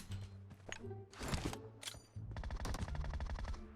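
Gunfire in PUBG Mobile: loud bursts of rapid automatic fire, a few single shots and then a long continuous stream of fire, all close and dense.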